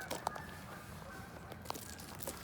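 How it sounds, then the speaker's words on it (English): Ducks at a pond on a spring nature walk give a few scattered honking quacks over faint outdoor background noise, moderately distant, with a couple of louder calls standing out. "I hear. Ducks."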